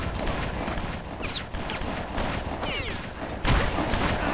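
Guns fire in a stretch of the BloodRayne video game set in Argentina: repeated sharp shots and bursts in a busy, continuous battle mix, with a louder blast near the end.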